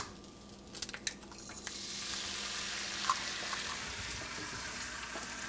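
An egg dropped into a preheated pan with melted butter, a few clicks and taps giving way to a steady, loud sizzling fry that continues to the end.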